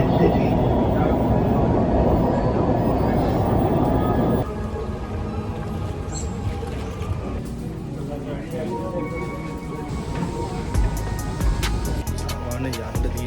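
A train approaches a station in Dubai with a broad, low rumble that shifts in tone as it nears, while someone talks over it.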